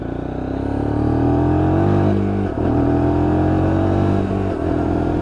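Lexmoto LXR 125cc Euro 5 motorcycle exhaust while riding, a steady droning engine note that rises and holds, briefly dips as if shifting gear, then carries on strongly close up.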